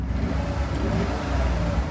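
A van's engine hums low and even while driving, running quiet and smooth with no clatter, a steady near rumble without talk.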